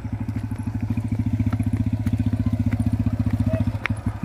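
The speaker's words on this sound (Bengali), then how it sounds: "Motor cycle." A motorcycle rides across a narrow path on the Kansabati railway bridge, its engine a loud, close, steady rapid putter with rhythmic thumping pulses throughout, alone without talk.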